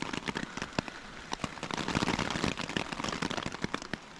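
Rain patters irregularly on a nearby surface, likely a hammock, on an island camping trip on the French River, scattered drops tapping close by with a soft background hiss; no one speaks.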